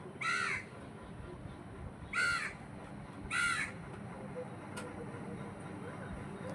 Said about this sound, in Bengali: আর একটা কাক না আমার সামনে এসে ডাকছে খুব